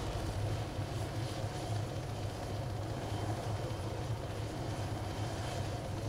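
A helicopter in the video game Arma 3 Altis Life drones loudly and continuously, a close rotor throb with low engine hum filling the whole stretch without pause or voices.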